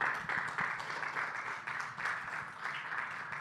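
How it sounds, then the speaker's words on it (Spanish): An audience at a church service claps in response to a healing testimony; a lively, even round of applause that swells in waves and carries on steadily, fairly close and with no speech over it. "Esto es digno de un aplauso"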